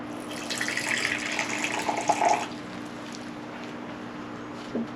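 Hot water pours into a vessel during gold extraction from flatpack processors, a short close splashing stream lasting about two seconds, followed by quiet and a faint clink.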